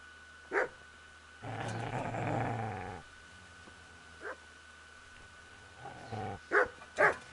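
A dog in the medieval role-playing game Kingdom Come: Deliverance growls in a long, rough stretch, with sharp single barks before and after it and a few short yips near the end. It is heard alone and fairly close.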